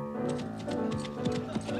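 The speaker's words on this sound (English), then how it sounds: "Dennis Moore, galloping through the sward" Horse hooves clattering in a quick galloping rhythm in the Monty Python's Flying Circus sketch Dennis Moore, close and fairly loud, over a bed of orchestral music.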